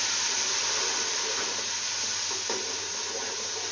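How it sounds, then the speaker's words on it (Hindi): Garlic, ginger and green chili paste frying in a pan for Hyderabadi aloo tahari, a dense continuous sizzle and hiss with faint stirring, no voices. "तो इसको थोड़ा सा भून लेते हैं ताकि लहसुन की स्मेल ख़त्म हो जाए"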